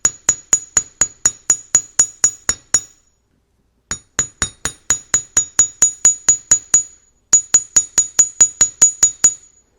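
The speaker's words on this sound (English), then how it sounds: "I've switched over to my chasing hammer and I'm going to do some light flattening" A small metal chasing hammer taps rapidly, lightly flattening twisted wire for a ring, in three bursts of bright, ringing strikes, each run of about ten blows separated by short pauses.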